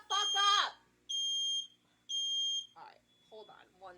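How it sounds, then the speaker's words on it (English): A smoke alarm sounds two sustained high-pitched beeps between bursts of nearby talking. "I've got the smoke alarm"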